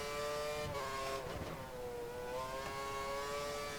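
An F1 2013 race car at Estoril in the video game accelerates hard. The high engine whine climbs steadily through the gears with brief dips at the shifts, loud and close, with no talk over it.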